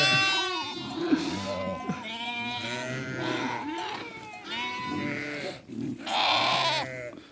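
Sheep and lambs bleating repeatedly at close range, several overlapping calls of varying pitch as lambs meet their mothers, with no talking.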